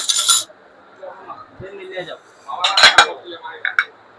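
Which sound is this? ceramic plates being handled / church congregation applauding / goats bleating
ceramic plates being handled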